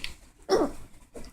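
A single short, close bark from a pet dog at home, sharp and fairly loud, with faint room noise before and a softer follow-up sound after.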